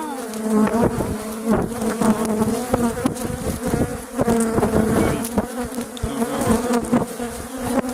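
Honey bees swarm in front of a beehive, their loud, close buzzing forming a constant drone that swells and wavers as individual insects fly past.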